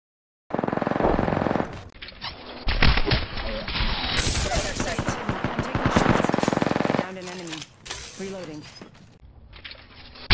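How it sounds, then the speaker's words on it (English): Havoc energy assault rifle from Apex Legends firing in long rapid automatic bursts, loud and close, with brief pauses and a tonal whine near the end, while a voice speaks over parts of the shooting. "This new assault rifle"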